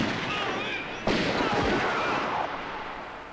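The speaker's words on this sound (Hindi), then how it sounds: "तुमने हम पर गोलियां चलाई," A sharp, loud gunshot cracks out, followed by a rumbling echo that slowly fades, with another faint report afterward.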